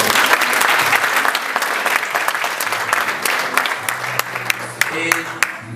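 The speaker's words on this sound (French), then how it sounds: "je souhaite à nouveau qu'on applaudisse très fort pour lui." Wedding guests at the celebration of Fryda and Jeff break into loud, sustained applause that thins toward the end into a few scattered, distinct claps.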